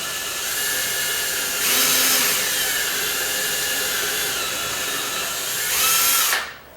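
A power drill runs steadily as its bit bores at a slight angle into a wooden door frame, a continuous whine that bogs down twice under load before winding off at the end.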